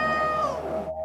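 An injured cat at a veterinary clinic lets out one brief, strained meow up close. The cry wavers and fades quickly, ending in near silence.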